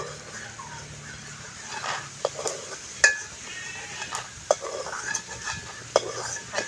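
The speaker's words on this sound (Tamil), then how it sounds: "இனி நாங்கள் கச்சான் முத்து அள்ளுவோம்" Roasted peanuts are scooped and stirred in a pan, giving light scraping and rattling with scattered sharp clinks and knocks at an irregular pace, fairly quiet and close.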